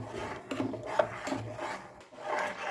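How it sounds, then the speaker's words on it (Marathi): Rice flour dough for papad, cooking thick on a gas stove, is stirred continuously with a spoon, giving repeated soft scraping rubs at a steady rhythm, close and moderately loud with no talking. "हा चम्मच फिरवतच राहायचे"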